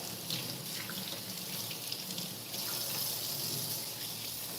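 Tap water runs steadily into a kitchen sink as raw meat is rinsed during meal prep, a continuous close splashing flow with no talking.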